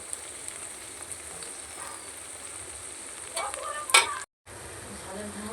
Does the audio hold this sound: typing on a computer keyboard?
no